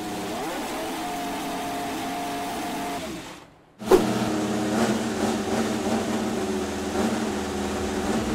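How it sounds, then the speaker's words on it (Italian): A Ferrari F1-75 Formula 1 engine runs steadily and loudly, then cuts to near silence before the new Ferrari 675 Formula 1 engine starts abruptly and keeps running with a dense, steady tone. No talking. "ascoltiamo per qualche istante il confronto tra il motore della F1 75 e il motore della nuova Ferrari"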